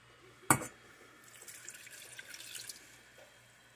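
Apple cider vinegar poured into a pan that already holds sugar, salt and peppercorns: a short knock of the bottle or pan at the start, then a soft, steady trickle of liquid that fades after about two seconds, with no talking.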